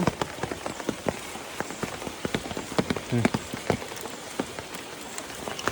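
Rain falls steadily on a hard surface nearby in Konkan, India, during river fishing, with many distinct drips and taps scattered irregularly throughout, no voices.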